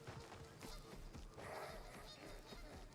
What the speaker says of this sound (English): Oh, sounds like geese. Can you hear the geese?